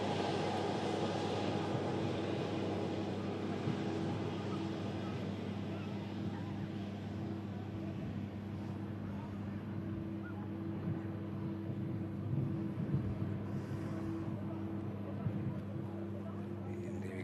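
Aer Lingus airliner engines spooling up at a distance, a steady low rumble with a sustained tonal hum that holds evenly throughout, faint against open-air background noise.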